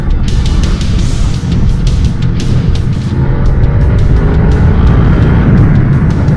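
A Honda VFR800Fi motorcycle engine holds around 5000 rpm while riding, a loud, steady, smooth drone mixed with heavy wind rush and occasional ticking clicks, with no talking.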